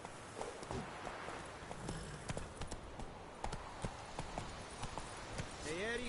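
Horse hooves clip-clop at a steady walking rhythm in The Witcher 3, fairly faint and mixed with game ambience, with a brief whinny-like tone near the end.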